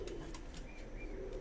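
A pair of teddy pigeons, one male and one female, coo softly in low, rolling calls. The sound is faint and close, with a few soft chirps and a steady low background hum.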